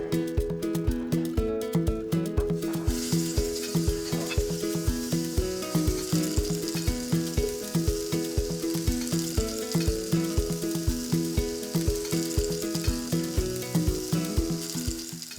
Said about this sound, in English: we're gonna go ahead and fry those up in the skillet